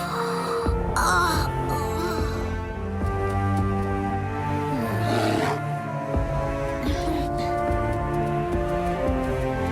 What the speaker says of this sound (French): L'esprit du grand ours.